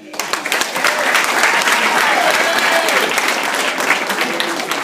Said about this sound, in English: ladies and gentlemen, a round of applause for the DJ